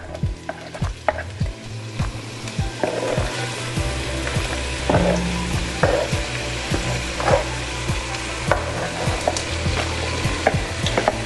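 Onion and jalapeno frying in avocado oil in a well-seasoned pot, a steady close sizzle with repeated scraping and stirring taps throughout, no talk.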